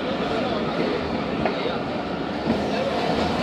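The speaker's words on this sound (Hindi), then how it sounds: "रायवेंड जंक्शन पर ट्रेन का अराइवल" A train pulling into Raiwind Junction gives a steady, close rumble and rolling noise throughout, with a faint voice over it.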